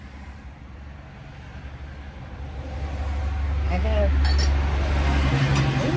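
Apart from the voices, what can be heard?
road traffic noise near a storage garage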